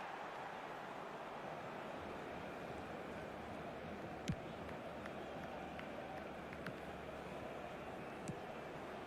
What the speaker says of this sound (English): As the crowd settles down slightly here